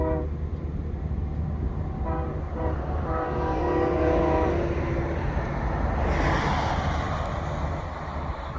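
A passenger train of six cars with locomotives at head and tail rolls past at Thompson Springs, Utah, a steady loud rumble of wheels and engines with a horn blast sounding through the middle.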